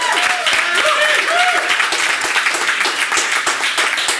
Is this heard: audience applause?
yes